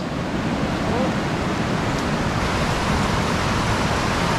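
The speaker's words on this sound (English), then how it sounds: "The river's overflowing." An overflowing river rushes along a hiking trail at Sable Ranch near Johannesburg, a steady, loud broadband roar of fast water that stays constant throughout.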